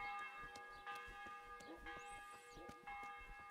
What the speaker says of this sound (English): Wonder why the church's bell is ringing.